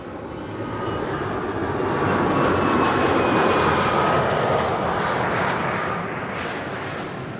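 Delta Airlines jet airliner approaching at Amsterdam Schiphol, a broad steady engine roar that swells to a peak midway then eases slightly, loud and continuous with no talk.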